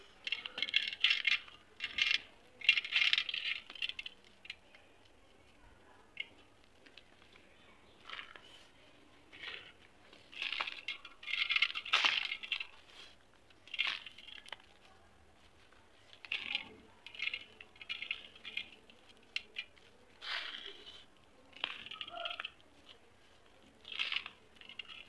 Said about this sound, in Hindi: यहाँ पे हम करते हैं वाइट सैंड सीमेंट और ग्रिटी की कंपनी।